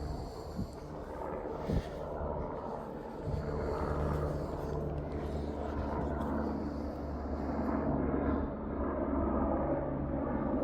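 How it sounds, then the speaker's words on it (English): A low, continuous rumble of a helicopter passing overhead, steady and fairly loud throughout, with a faint mechanical drone and no speech. "Now we got a helicopter flying over."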